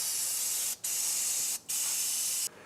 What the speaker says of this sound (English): let's finish the cleaning with some brake cleaner